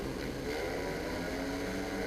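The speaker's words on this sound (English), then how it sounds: "Bikes are revving and away they go" Speedway motorcycles rev together at the start line of a race between Oxford and Peterborough, a dense, continuous engine roar heard from a distance with no pauses.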